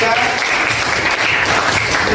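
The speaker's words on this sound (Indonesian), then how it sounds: "tepuk tangan lagi sekali untuk kelompok 3" A classroom applauds a student group in a dense, continuous burst of clapping that fills the whole short moment, loud and close, with voices mixed in.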